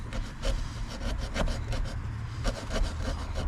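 A hand saw, worked with push strokes, cuts through drywall at close range, making a rhythmic, raspy scraping with each stroke and a steady gritty rub throughout.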